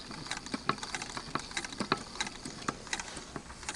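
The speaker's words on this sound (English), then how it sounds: "it's an unconventional hand crank that you turn forward, and it's only one stitch per turn" Hand-crank sewing machine turned forward by hand, one stitch per turn, its bobbin winder, belt and motor idly moving along; quiet irregular ticking and clicking mechanism sounds at close range with no talking.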